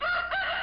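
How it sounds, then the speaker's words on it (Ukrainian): A short, close rooster crow, bright and loud, heard alone. "Вірно, це півник кукурікає."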